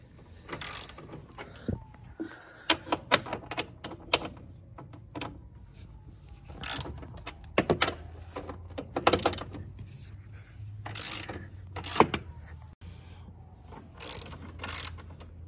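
A hand ratchet clicks in repeated bursts while backing out four E18 Torx bolts from a bar during a Motiv Reflex Plus install, the sharp pawl ticks close and moderately loud with short pauses between runs.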